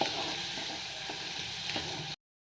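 A ground coconut and tamarind paste fries in hot oil for a fish curry, a soft, steady sizzle with faint scraping, heard up close and alone.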